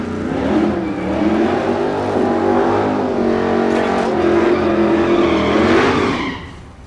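A naturally aspirated small-block drag race car at Texas Motorplex in Ennis, Texas roars loudly and steadily, the engine note climbing through a sustained run, with no voices over it.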